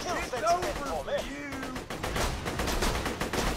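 Gunfire from shooting enemies in Borderlands 2 rattles in quick repeated bursts, steady and fairly close, with a voice talking over the opening second or so.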